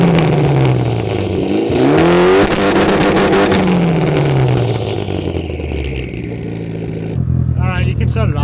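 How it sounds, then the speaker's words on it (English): A Mitsubishi Evo 8 with a 2-step tune revs hard with the pedal floored. The engine note climbs and falls loudly and close, then switches to a rapid popping, crackling limiter near the end. People talk over it. "put the gas pedal all the way to the floor"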